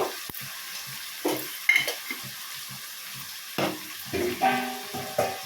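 Tomato pieces with salt and turmeric are stirred in a pan, with intermittent scraping and clinking strokes spaced irregularly over a faint sizzle, fairly close.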